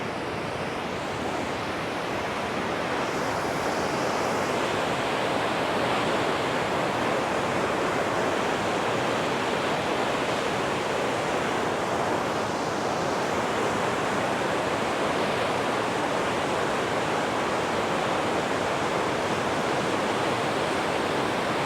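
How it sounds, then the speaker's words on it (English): A steady, loud roar of the flooded Ping River rushing downstream in Chiang Mai after a storm, continuous and unbroken throughout, with no voices. "That water forcefully pushing downstream."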